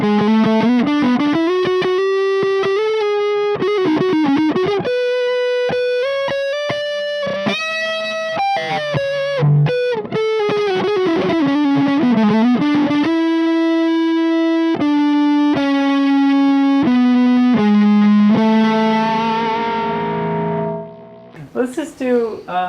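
A Fender Deluxe Stratocaster with heavy distortion playing sustained chords and bends, loud and continuous, ending with a few choppy strums.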